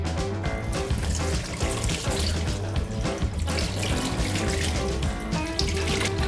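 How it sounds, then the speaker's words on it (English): Running cold tap water splashes steadily into a sink as vegetables are rinsed, with faint handling sounds, close up and continuous. "rinse all the vegetables under cold water"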